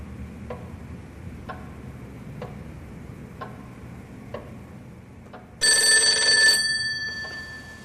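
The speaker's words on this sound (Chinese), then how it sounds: "我先接个电话。" An old-style telephone bell rings loudly in a quiet room, breaking in after a series of soft, evenly spaced ticks. The ring is one harsh, sustained burst that then fades away.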